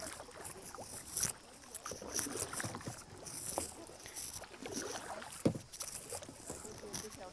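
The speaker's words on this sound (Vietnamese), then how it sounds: "đây là cái vịnh Lan Hạ mà để chèo thuyền kayak đây" A kayak is paddled on Lan Ha Bay in Vietnam, with soft water splashes and drips from the paddle strokes in an irregular rhythm and light wind, while someone talks over the scene.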